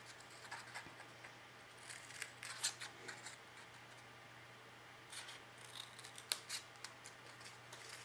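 Scissors snip through cardstock in a run of small, quiet crisp cuts at close range, with no speech.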